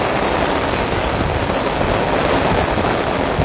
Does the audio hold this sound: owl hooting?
no